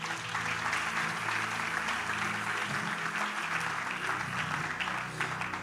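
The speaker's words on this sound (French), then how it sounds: "Acclamez d'abord, on va avancer." A church congregation claps together in a steady, dense burst of applause that fills the room, loud and continuous from start to finish.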